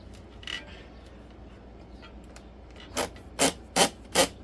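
A strap feeds through the latch of a Thule Epos 2 hitch bike rack, giving a faint scrape and then four quick, close rasping pulls in a steady rhythm.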